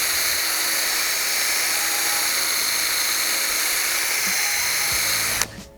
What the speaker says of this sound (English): you need to drill a 7/8 to 1 inch hole in the back of the dust cover